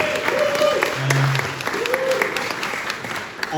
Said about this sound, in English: Big round of applause for the Roots.